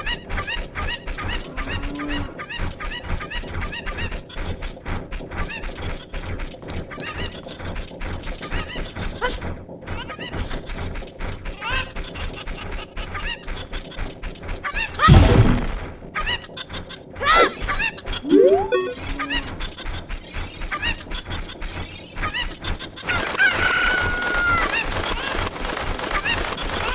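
Chickens (cuccos) in Zelda: Ocarina of Time cluck in repeated short game-sound bursts over steady background game music, with a louder squawk-like burst midway and busier, brighter effects near the end.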